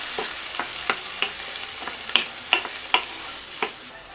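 Garlic and tomato fry in a pan for a chakchouka filling, a steady close sizzle punctuated by a regular series of sharp spoon clicks and scrapes against the pan.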